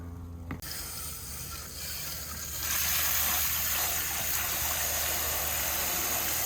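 Water gushing steadily into a container to dilute worm bin mixture near a persimmon tree, a loud continuous rushing that grows fuller and brighter partway through as the level rises, with no voices.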